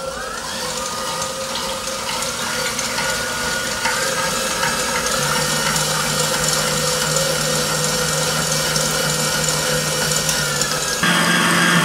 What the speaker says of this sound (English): so we're going to make our own whipped cream or chantilly cream